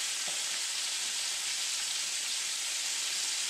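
Pieces of saugeye fish frying in hot oil give a steady, dense sizzle with fine crackle, close and constant throughout, with no talking.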